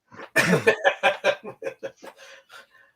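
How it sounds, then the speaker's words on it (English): A voice fakes a string of coughs: one loud burst, then quick rhythmic coughs trailing off softer and softer. "Cough, cough"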